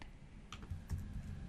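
Keys tapped on a computer keyboard at a desk, a few soft clicks and taps at close range over a low background hum, with no talking.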